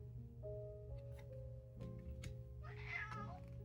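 Pet cat meowing up close, a couple of short tonal mews followed by a longer rising call, faint and quiet, with small handling ticks around it.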